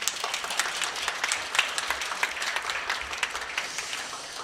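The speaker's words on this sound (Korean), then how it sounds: "박수 한번 해주세요." An audience claps at a church newspaper seminar in Korea, a lively round of overlapping hand claps with uneven peaks that continues for several seconds and eases slightly toward the end, with no talking.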